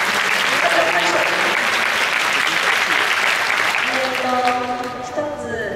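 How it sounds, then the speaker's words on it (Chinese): An audience in a sports hall applauds steadily, a dense wash of clapping that holds loud for about five seconds before thinning slightly near the end, with a voice briefly audible underneath. "大家拍手"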